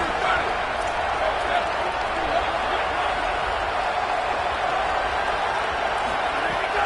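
Crowd noise from an NCAA football video game, a steady loud roar of cheering after a big third-down play, sustained throughout with commentary talk over it.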